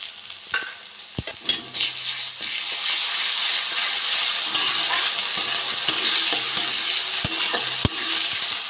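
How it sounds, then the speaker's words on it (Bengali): A spoonful of ginger-garlic paste hits onions frying in a wok, setting off a building, sustained sizzle punctuated by occasional spatula knocks and scrapes, close and steady without speech. "আদা রসুন বাটা 1 চামচ দিয়ে দেবো।"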